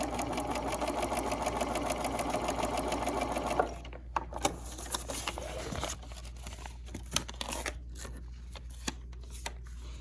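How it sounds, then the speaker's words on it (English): A sewing machine stitches a quilt block with a fast, steady whirring run of needle clatter that stops partway through. Soft fabric handling and scattered light clicks follow, close by and with no talking. "I'm going to start sewing again past my dotted line, and then I will sew just a few stitches past my solid line."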